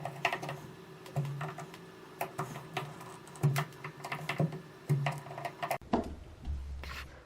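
Screws are tightened on a Pfister single-handle shower cartridge, giving a close, faint series of irregular clicks and scrapes of a screwdriver on metal, ending in a short clunk and low rumble.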